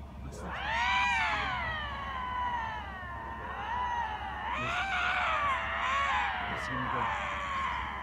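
Two Canadian lynx in Maine yowl in long, rising and falling wailing cries, loud and close, nearly continuous for the whole stretch with overlapping harmonic howls.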